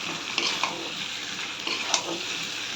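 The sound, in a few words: lote shutki dried fish being stir-fried in a pan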